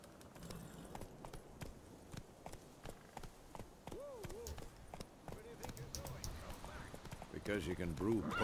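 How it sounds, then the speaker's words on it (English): Steady clip-clop of horse hooves at a trot in the video game The Witcher 3, with music and voices layered over it. "Luckily, Geralt can always count on his horse, Roach, to help him in his travels."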